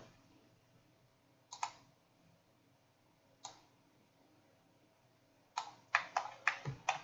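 Mouse clicks sound while someone models geometry in 3ds Max: a couple of isolated clicks early on, then a quick run of several sharp clicks near the end, all close and quiet.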